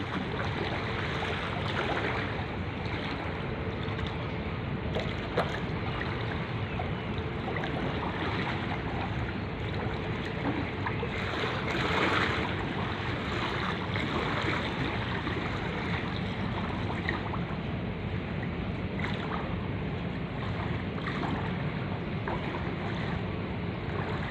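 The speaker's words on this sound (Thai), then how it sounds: "ก็เรือด่วนเจ้าพยานะครับ เข้าไปที่สะพานสาทรนะครับ" A Chao Phraya Express boat pulls into Sathorn pier, its steady engine rumble mixing with churning river water and wind in a continuous broadband wash for the whole stretch, with no one talking.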